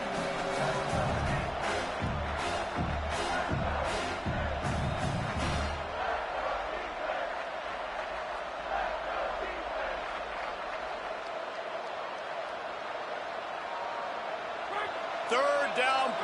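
A stadium crowd at an American football game roars steadily in the background under continuous broadcast commentary, a dense wash of noise that stays loud for the whole stretch.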